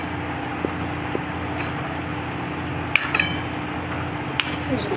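Maggi noodles with masala are stirred in a pot on a gas stove, with light clinks and scrapes of a utensil against metal over a steady background hum, a few sharper knocks standing out.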